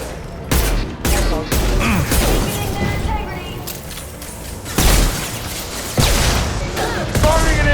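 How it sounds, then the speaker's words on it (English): Gunfire and a heavy impact shot in the sci-fi shooter Mass Effect 2, with loud bursts and sharp blasts recurring over dense battle noise, with voices calling out amid the fighting. "Firing an impact shot!"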